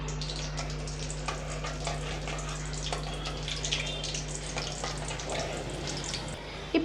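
Three cloves and two small pieces of cinnamon fry in hot oil with a soft, continuous crackling sizzle and occasional small pops, under a steady low hum.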